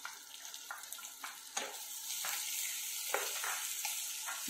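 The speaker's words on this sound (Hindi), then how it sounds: "प्याज कटी हुई है, इसको डाल देते हैं" Chopped onions hit cashews frying in a pan, bringing a bright crackling sizzle that swells and stays dense, with several short stirring scrapes spaced through it.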